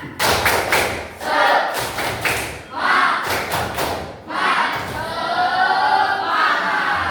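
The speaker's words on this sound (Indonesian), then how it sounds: "Tepuk semangat" A classroom of students doing a rhythmic spirit clap, several sharp group claps and thumps in a patterned beat, with children chanting and shouting together between and over them.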